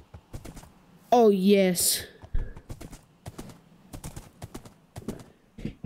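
A horse in the Minecraft video game clip-clops in a quick, steady run of hoofbeats, joined partway through by a short synthetic whinny, while a person speaks briefly.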